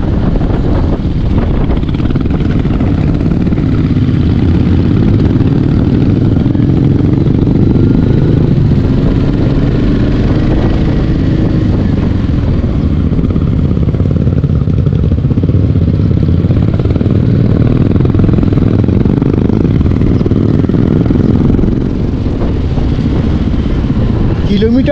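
A motorcycle rolls slowly along a mountain road in Arunachal Pradesh between Shergaon and Dirang, its low engine drone running steadily throughout beneath heavy wind buffeting on the microphone.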